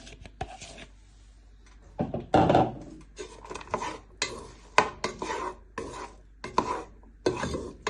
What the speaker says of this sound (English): we're going to fry these for 3 to 5 minutes. Till they go nice and golden and soft.